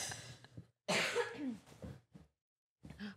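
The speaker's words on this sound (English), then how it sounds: "Well, actually, I have to cough." A loud, raspy cough bursts out nearby, followed by a shorter throat-clearing sound and a quiet pause.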